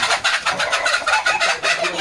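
Village chickens and a rooster cluck in a quick, busy run of close, repeated calls lasting a couple of seconds, with no talking.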